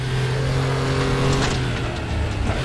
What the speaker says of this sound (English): Drop it down the gear, blip the throttle.